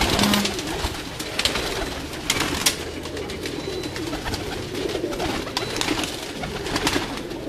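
Many pigeons, a coach's flock of Teddy pigeons, coo steadily in a loft, with a soft low continuous burbling and occasional wing flutters and scuffs, fairly close and without talk.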